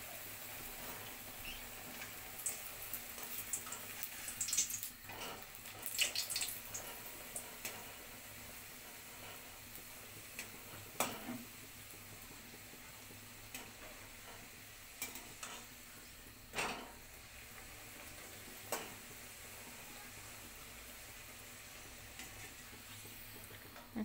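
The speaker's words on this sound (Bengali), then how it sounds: "এদিকে তেল গরম হয়ে গেছে, এবার আমি একটা একটা করে আগে ভেজে নেব।" Potato-stuffed kachori frying in hot oil, a steady soft sizzle and crackle with occasional sharper pops and stirring clicks, close but fairly quiet, with no talking over it.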